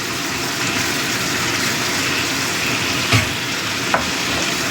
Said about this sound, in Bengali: এখন কষতে থাকবো।